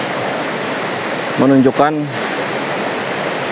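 A jungle waterfall in Kalimantan roars as a loud, constant wash of rushing water, and someone speaks briefly over it partway through.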